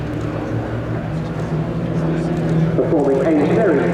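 Extra 330LX aerobatic planes of the Royal Jordanian Falcons drone overhead in line-abreast formation at an airshow, a continuous engine roar that swells and wavers near the end, with a commentator speaking over it.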